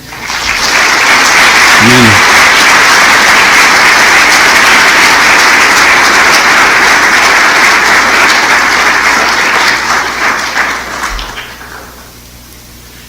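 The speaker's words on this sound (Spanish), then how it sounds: "Dale otro aplauso." A church congregation bursts into loud, sustained applause that swells and then tapers off over several seconds, with a brief spoken word near the start.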